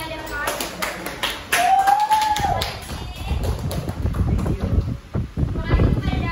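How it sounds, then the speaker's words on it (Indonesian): Students in a classroom clap together in a dense burst of applause that runs for several seconds, with voices and a brief tonal squeak mixed in nearby. "Beri tepuk tangan kepada adik kakak."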